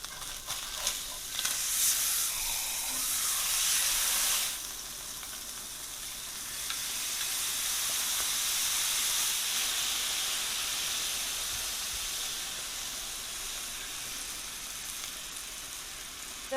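Fish sears undisturbed in a hot pan, a loud continuous hissing sizzle that surges strongly early on, eases, then swells again and holds steady, with no talking.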